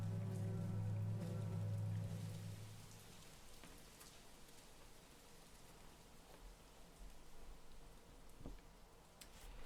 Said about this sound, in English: it's weird that the rain's only for that one song